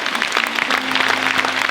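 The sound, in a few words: congregation applauding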